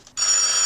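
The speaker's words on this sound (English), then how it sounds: "Someone answer the phone." Telephone ringing in the 1984 comedy film Top Secret!, a steady electronic ring with a sustained high tone starting abruptly after a brief quiet moment and continuing to the end.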